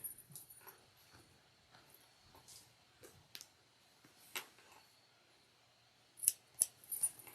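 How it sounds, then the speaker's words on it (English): Scissors trim the bulky fabric seam allowance on a sewn triangular shoulder bag. Faint, sparse snips and clicks sound close by, and a quick run of sharper, louder cuts comes near the end, with no voices. "I can just trim down some of the bulk that's in that area"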